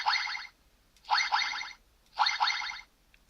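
A Kamen Rider Build DX Full Full Rabbit Tank Bottle toy plays an electronic springy hopping effect three times, each a bright double-bounce chirp with short silences between.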